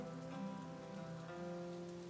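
Steady rain patters on a surface, a soft even hiss with no pauses.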